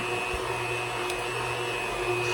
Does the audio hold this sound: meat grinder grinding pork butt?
yes